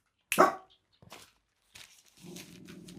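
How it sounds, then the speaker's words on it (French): A dog gives one loud, sharp bark close by, then a few fainter yips and rustles follow before a low murmur sets in. "Oui, mon chien, oui! Viens là."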